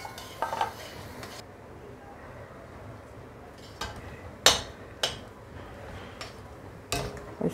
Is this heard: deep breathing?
no